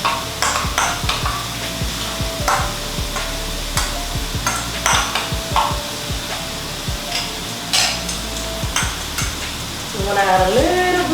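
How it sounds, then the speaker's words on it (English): Oil sizzles steadily in a frying pan while a utensil stirs and scrapes it, with repeated sharp clinks against the pan over the continuous hiss, close and fairly loud. "Let's give it a mix."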